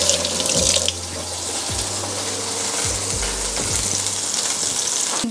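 Fish fillet frying skin side down in hot olive oil in a pan, a steady close hiss and sizzle that continues throughout with no talking.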